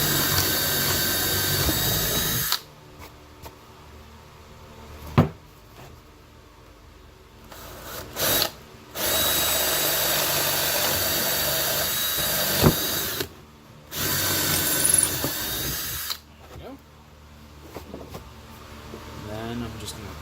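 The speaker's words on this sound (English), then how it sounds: "I'm going to drill 2 guide holes" A cordless power drill bores two guide holes in wood for a floating shelf with a slightly dull bit, in several loud bursts of whirring that start and stop, with a person talking between runs.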